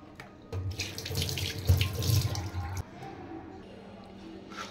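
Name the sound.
washing pabda fish under running tap water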